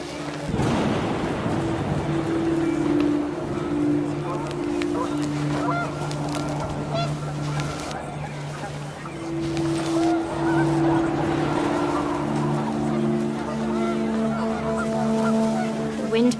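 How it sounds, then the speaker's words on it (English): A flock of panicked geese honks loudly in the video game What Remains of Edith Finch, repeated overlapping honks in two bursts over a windy outdoor bed. "panicked geese appeared and quickly went"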